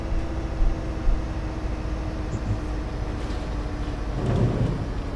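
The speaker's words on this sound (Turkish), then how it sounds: "Bu oyunun yağmurlu havasını arkadaşlar çok sevdiniz." Steady rain hiss with low rumbles of thunder rolling underneath in the video game Bus Simulator 18, a louder rumble swelling near the end, no voices.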